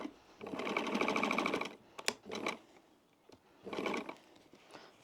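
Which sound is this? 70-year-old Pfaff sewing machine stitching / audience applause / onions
70-year-old Pfaff sewing machine stitching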